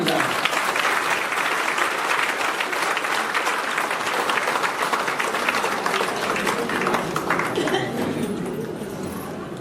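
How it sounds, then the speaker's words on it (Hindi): Audience applause fills a spiritual gathering hall, a dense, sustained wash of clapping from a large crowd that holds steady throughout and tapers slightly at the end. "आप अपने लिए ताली बजाएं।"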